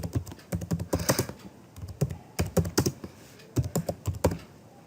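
A program is typed on a computer keyboard in close, crisp bursts of keystrokes with short pauses between runs, and no voices.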